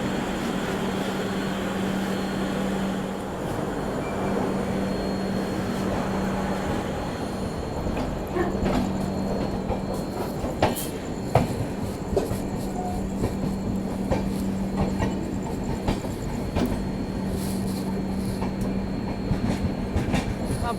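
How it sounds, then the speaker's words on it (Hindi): Avadh Assam Express pulling out of Bhatni Junction, a steady rolling rumble of wheels and carriages with a low hum and occasional clicks over rail joints, continuous and close from inside the moving train, no voices. "यहाँ पे फाइनली अपनी ट्रेन भी अब निकल चुकी है भटनी जंक्शन से।"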